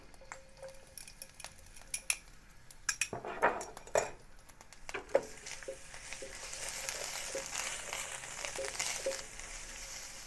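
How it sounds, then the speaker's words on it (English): Ginger and garlic sauté in a pan for a Chinese broccoli stir-fry: utensil clinks and scrapes against the pan come first, then a soft, building sizzle continues close by without speech. "Saute the ginger and the garlic."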